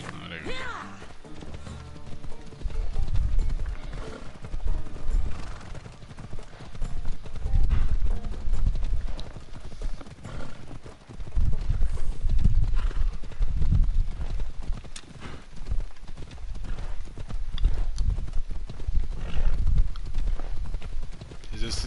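Rhythmic clip-clop of galloping horse hooves in Assassin's Creed Odyssey, loud and continuous, with a brief neigh near the start and voices talking over it.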